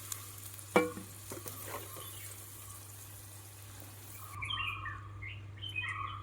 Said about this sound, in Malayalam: വെണ്ടയ്ക്ക നന്നായിട്ട് വാടി ഫ്രൈ ആയി വന്നിട്ടുണ്ട്